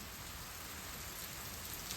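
Heavy rain falls steadily in a village setting, a dense, loud, unbroken hiss of drops hammering surfaces, with no pauses or voices throughout.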